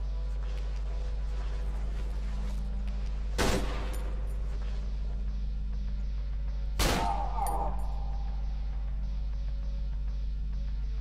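Two loud gunshots from the horror video game Cry of Fear ring out several seconds apart over a steady low hum, each with a short ringing decay, and no talking is heard.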